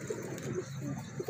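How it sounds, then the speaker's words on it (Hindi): Kasuri pigeons with red eyes give soft, low coos in a brief run of murmuring calls close by, with no other sound over them. "बेसिकली कसूरी कबूतर हैं ये"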